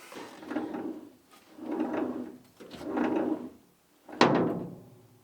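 A vehicle's steering is swung lock to lock, giving three drawn-out rumbling scrapes followed by a sharp loud clunk as it hits its stop, close and without talk.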